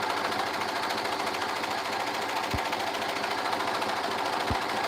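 A sewing machine runs steadily and loudly, stitching stretch fabric pieces for small-shop orders, a dense continuous whir with two brief low thumps near the end.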